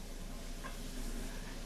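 Onions sweating in a pan, a faint steady sizzle with a low constant background hum, quiet and even throughout with no voice over it.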